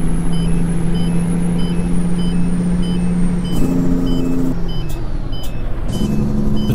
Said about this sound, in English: I kind of like that beeping sound